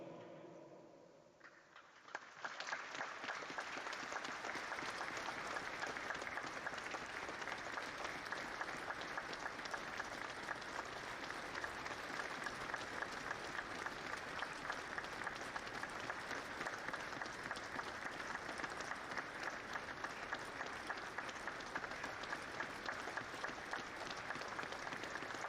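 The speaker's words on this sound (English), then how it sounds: "Please now join us in a period of applause as we pay our respects to the great" A stadium crowd at a football match gives sustained applause in tribute to Ian St John. The clapping is dense, steady and distant, rising quickly and holding evenly for over twenty seconds with no talk.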